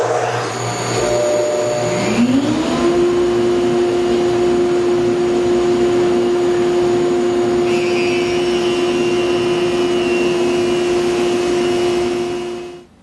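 A Felder Hammer A3 41 jointer with a segmented cutter head spins up to a steady, loud whine while planing a wood board, with a faint higher tone joining partway through, then the machine cuts off at the end.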